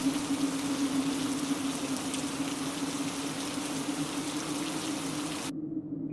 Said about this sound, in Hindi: पूरा 4 दिन तक लगातार आसमान बरसता ही रहा।